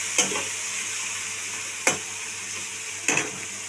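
Spice paste sizzling in a frying pan while cooking a spicy mourala fish curry, a steady hiss with three sharp scraping stirs spaced evenly across the moment, close and fairly loud.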